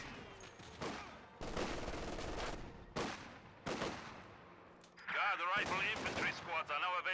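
Gunfire and a rifle grenade in the World War II strategy game Company of Heroes 2: several loud, sharp blasts and bursts of shooting crack over a busy battle din, followed by chattering, warbling effects near the end.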